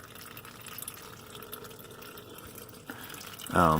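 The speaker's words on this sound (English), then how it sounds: "It is all that beautiful brand new transmission fluid leaking on into my Ace bucket." Brand new transmission fluid drains from a vehicle's shifting linkage area into an Ace plastic bucket, a steady liquid trickle and splash that runs continuously, ending with a louder, sharper burst.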